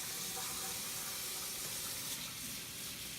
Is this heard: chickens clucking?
no